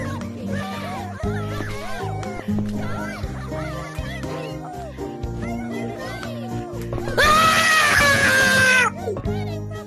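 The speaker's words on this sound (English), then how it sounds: "Why are y'all screaming?" Children screaming in a voice chat during an online horror game, loud high-pitched shrieks rising sharply near the end over a busy mix of kids' voices and game sounds.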